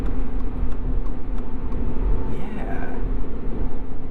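Inside a 2022 Subaru BRZ at highway speed, a steady low tire roar from slightly louder-than-stock tires fills the cabin, with faint ticks and a dull hum, no talking.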